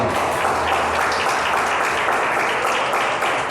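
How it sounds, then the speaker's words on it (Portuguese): A church congregation applauds loudly and steadily, a dense wash of clapping that fills the whole stretch without pause. "Aplauda Jesus bem forte"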